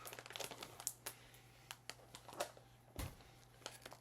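Plastic product packaging being cut open along its edge, with quiet crinkling and scattered sharp snips and rustles, close and faint, no voices.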